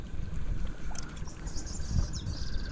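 A big outboard motor on a fishing boat runs steadily at close range, a continuous low rumble that holds for the whole stretch, with faint birdsong over the top.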